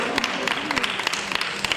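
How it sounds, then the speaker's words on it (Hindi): Brief scattered applause at a dance commemoration event, a modest crowd clapping with distinct individual claps audible over a murmuring room. "एक बार संदीप पेंड्रे और निवासना के लिए तालियों के साथ अभिनंदन,"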